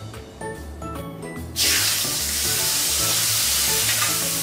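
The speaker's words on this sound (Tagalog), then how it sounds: "So simulan na po natin igisa ngayon." Khao soi curry paste hits a hot pan and bursts into a loud, steady sizzle that continues under stirring after a brief quiet start with light clatter.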